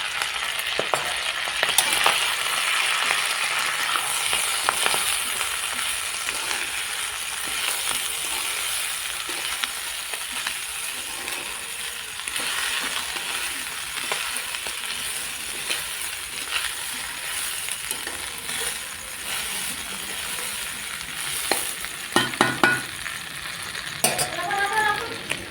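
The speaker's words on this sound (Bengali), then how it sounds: "এবং এই চালটা ঘিয়েতে কড়াইতে একটু নেড়ে নেব হালকা আঁচে।" Rice stirred in ghee in a wok over low heat gives a steady, close sizzle with scraping stir strokes running throughout, a few sharper clinks near the end, no talk.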